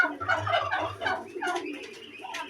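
Young and old pigeons from a loft of about thirteen pairs coo and call in a dense, overlapping chorus, close by and fairly steady throughout.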